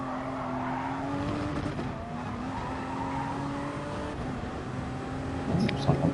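A race car in Gran Turismo Sport holds a steady engine whine while its tires squeal under braking, a sustained tonal screech running throughout, with a brief louder scuffle of noise near the end.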